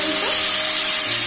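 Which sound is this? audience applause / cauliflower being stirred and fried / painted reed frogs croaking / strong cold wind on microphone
cauliflower being stirred and fried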